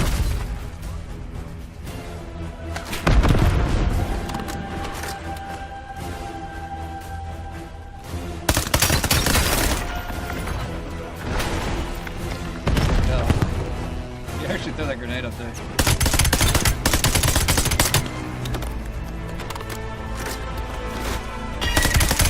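Heavy gunfire and a frag grenade in Call of Duty Black Ops 7 combat, with loud bursts and blasts cutting through a constant wash of battle noise and a voice speaking over it.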